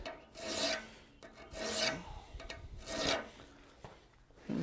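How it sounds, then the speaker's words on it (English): A hand file rasps across pins on a metal gothic door knocker held in a vise, with four steady back-and-forth filing strokes, close and fairly quiet, and no talk. "So you got to file those pins out."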